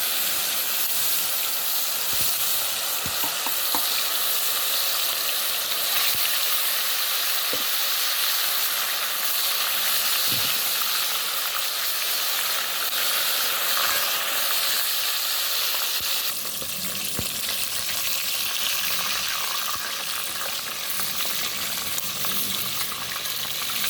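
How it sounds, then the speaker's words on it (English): Fish pieces frying in hot oil flavored with pepper and garlic, a loud, steady sizzle and hiss that runs throughout, with occasional soft pops and stirring clinks and no talking. "I'm going to add my fish cut to the oil."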